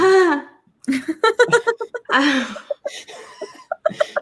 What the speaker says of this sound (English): Yeah, she's just coughing.